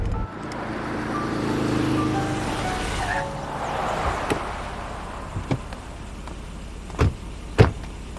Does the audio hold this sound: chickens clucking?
no